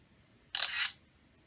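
A single soft camera shutter sound from a Sharp Aquos Crystal phone, a brief hissy click lasting under half a second, faint and isolated in quiet surroundings.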